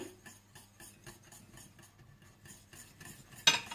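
A spoon stirs kulfi mixture with kewra water and ground cardamom in a pot, soft rhythmic scraping strokes repeating steadily, faint and close, ending with a sharper clink.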